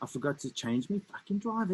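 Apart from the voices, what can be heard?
None of the usual background noises is heard.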